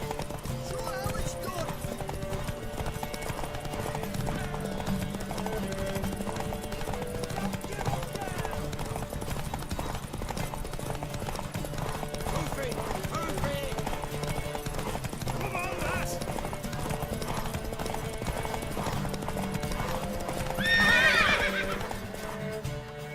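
A horse in The Witcher 3 video game keeps up a steady, rhythmic clip-clop of hooves beneath game music and dialogue, and near the end it lets out a loud whinny.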